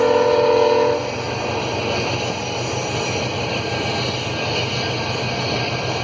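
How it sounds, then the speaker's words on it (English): Canadian freight train rolling past, a loud continuous rumble and rattle of rail cars with a brief horn-like tone at the start, close and steady throughout. "There's our Canadian rail system at hard work."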